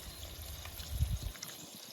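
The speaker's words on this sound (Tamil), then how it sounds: "இதில் வந்து நம்ம தண்ணி கொஞ்சம் சேர்த்துப்போம்" Water is poured into a fish curry (meen kuzhambu) mixture in a home kitchen, making a faint, short splashing trickle that swells briefly midway and then fades.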